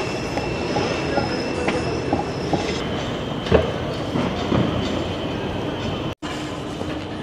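A GO Transit train at a Port Credit station rumbles nearby with rattling, clattering wheels and metallic squeals, a steady rolling noise broken by a brief cutout near the end.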